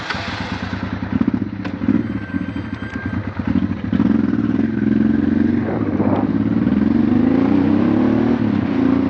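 A Honda Transalp motorcycle rides along with a steady, loud engine drone that rises as it pulls ahead, with clattering and thuds over the first few seconds before a fuller, continuous run.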